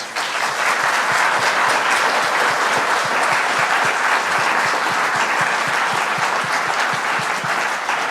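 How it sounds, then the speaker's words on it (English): Loud, dense applause from a book-talk audience fills the room continuously and evenly from start to finish, with no voices over it. "Let's give another applause."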